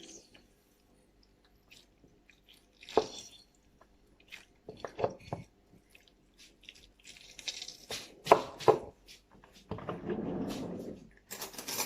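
Lemon squeezed by hand for homemade fresh cheese, giving soft wet squishes, small clicks and drips close by in a quiet kitchen, with a few brief rustles.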